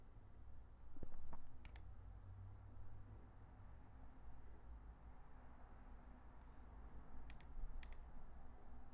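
Computer keyboard keys clicked to type a line of code into Anaconda Prompt: scattered sharp clicks in small bursts near the start and end, fairly faint over steady room hum and hiss.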